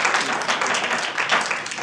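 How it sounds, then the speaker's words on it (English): Applause breaks out at a town council meeting, a short burst of dense clapping from a crowd in a hall, steady and moderately loud. "Requesting that you don't applaud, please."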